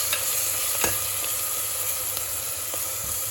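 Ginger garlic paste sautés with mint and coriander leaves in a pan for mutton biryani, giving a continuous sizzle and hiss with a few sharp stirring scrapes and clicks scattered through it.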